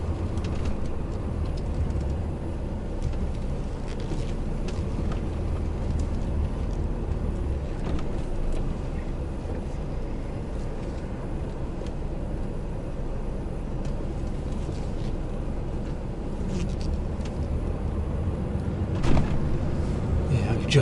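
A truck engine runs steadily and close by, giving a continuous low rumble with no pauses, on a delivery run with a tight turn by a brick wall.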